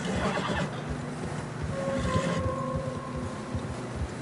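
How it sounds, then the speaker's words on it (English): Horses whinny while struggling through fresh snow in Red Dead Redemption 2, a drawn-out neigh rising over a rumbling, shuffling background of hooves and movement. "Horses struggling."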